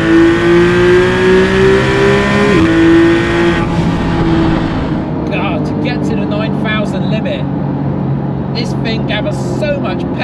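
A Porsche 911 GT3 (991.1) accelerates hard with a rising engine note, then shifts gear through its dual-clutch gearbox, the pitch dropping before the engine pulls again, loud and close with a voice talking over it.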